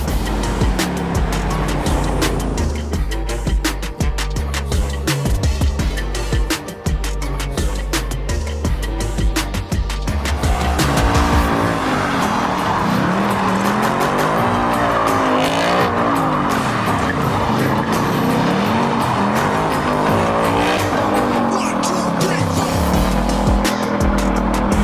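A car wrapped in Christmas lights drives around town, its engine loud and continuous with repeated tire squeals and skidding, the engine note rising and falling throughout.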